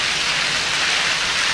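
Heavy rain pours down steadily during a flood, a dense, constant hiss of water with no gaps, loud and close throughout with no voices.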